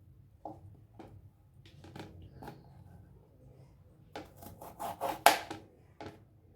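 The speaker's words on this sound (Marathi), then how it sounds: "आपल्याला हे आता कट करून घ्यायचे कारलं पुढचं टोक काढून घ्यायचं आहे" A knife trims the ends off a bitter gourd (karela) on a board, giving a few scattered dry scraping cuts followed by a denser cluster of crisp rasping strokes, close and fairly quiet with no talking.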